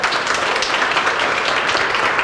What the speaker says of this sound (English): A round of applause for the 5 powerhouse women who came before me